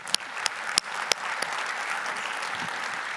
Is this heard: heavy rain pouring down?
no